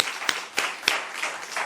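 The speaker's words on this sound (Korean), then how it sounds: "박수 한번 치시죠" A few sharp, scattered hand claps from a small church congregation at a Friday prayer meeting, spaced about a third of a second apart and fairly faint.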